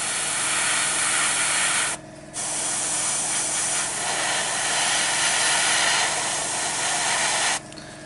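An airbrush sprays paint at 25 to 30 psi onto a Warhammer 40k Rhino tank model, giving a steady close hiss that breaks off briefly twice as the trigger is released.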